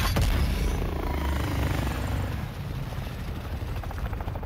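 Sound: helicopter in Call of Duty Warzone video game

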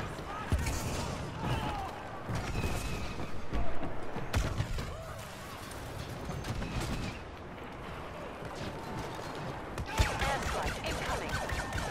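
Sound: blaster cannon gunfire in Star Wars Battlefront video game

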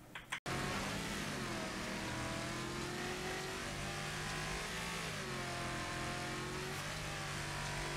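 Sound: race car engine short shifting in Wreckfest video game

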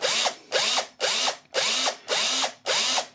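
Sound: power drill drilling a small hole in metal

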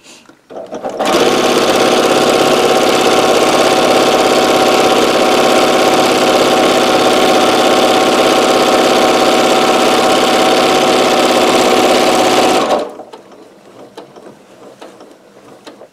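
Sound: sewing machine stitching potholder quilt layers

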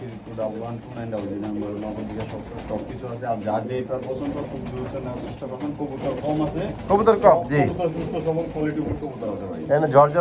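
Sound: pigeons cooing at a pigeon seller's

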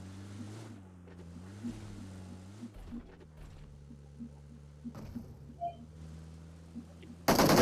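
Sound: boat engine in a video game

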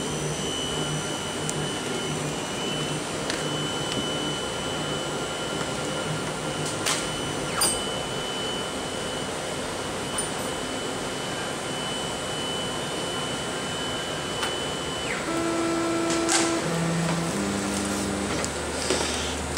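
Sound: CNC machine homing its Z, X and Y axes

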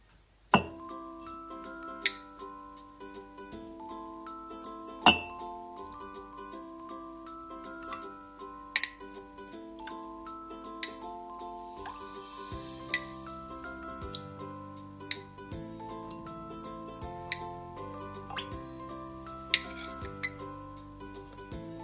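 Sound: spoon stirring sugar in glasses of water

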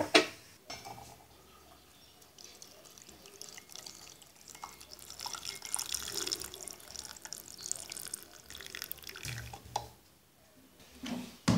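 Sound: masala milk tea being strained through a strainer

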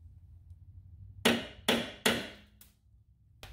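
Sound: center punch being struck

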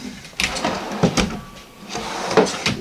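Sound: ball-bearing drawer sliding in RV kitchen

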